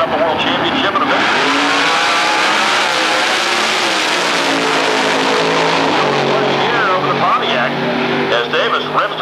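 Drag racing car making a pass at NMCA Atlanta Dragway in Commerce, Georgia, on DOT tires, a loud continuous engine roar with shifting tones filling the whole clip under constant commentator talk.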